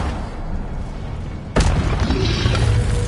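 The Incendio fire spell cast in the video game Hogwarts Legacy, a sudden booming whoosh halfway through that leaves a loud roaring rush in place of the quieter ambience before it.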